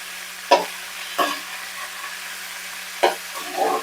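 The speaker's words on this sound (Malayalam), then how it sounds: "ഇത് ഞാൻ കുറച്ച് ഫ്രൈ ചെയ്തിട്ട് എടുക്കാം കുറച്ച് ലൈറ്റ് ബ്രൗൺ ആയിട്ട്" Ingredients for a cauliflower and green pea curry frying in a pan toward light brown, with a faint steady sizzle under three or four distinct stirring scrapes and knocks, close by, no talking.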